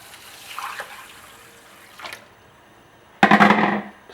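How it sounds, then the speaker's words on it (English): About a litre of water poured into a pot of lentil soup, a short, loud, close gush near the end after faint earlier clinks and rustles. "Then to that, add about 1 litre of water."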